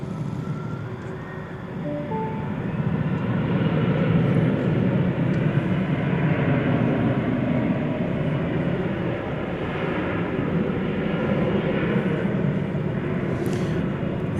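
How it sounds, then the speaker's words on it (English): An Embraer E-Jet airliner roars on takeoff at Dallas Fort Worth airport at night, a loud, broad jet engine rumble swelling and holding steady from a distance before slowly easing. "There you see another E-Jet poised for takeoff."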